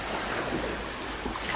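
Ocean waves and surf wash steadily around a swimmer in open sea water, a broad continuous roar with wind buffeting the microphone and no clear breaks.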